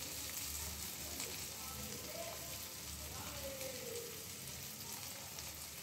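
Spices going into softened tomatoes in a pan over low to medium flame, a soft continuous sizzle and crackle heard close and quiet, with faint stirring.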